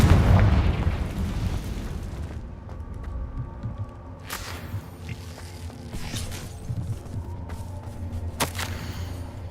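The Confringo spell in the Hogwarts Legacy video game sets off a heavy booming explosion that rumbles and fades away. Sharper cracks and mechanical clatter follow in the game scene.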